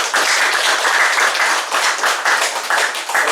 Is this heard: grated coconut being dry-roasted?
no